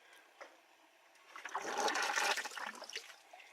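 Air blown into the coolant reservoir of a Subaru with an EJ22 engine makes the liquid gurgle and bubble, quiet at first and then swelling into a busy, watery churn in the second half, with no talking.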